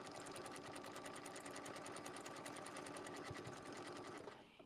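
A sewing machine stitches a Christmas motif appliqué in a continuous, even, rapid whirring chatter that holds steady for several seconds before winding down at the end.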